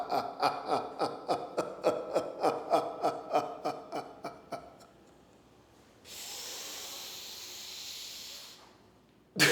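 Rhythmic breathing in a laughter yoga session, a long string of short puffs of breath, followed by one sustained, airy inhalation, close and alone.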